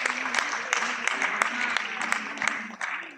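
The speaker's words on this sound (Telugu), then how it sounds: "ఒక్కసారి వీరందరికీ గట్టిగా చప్పట్లు." Audience applause at a Kuchipudi Yakshagana dance performance in a hall, a sustained crackle of many hands clapping with a voice briefly audible in the mix.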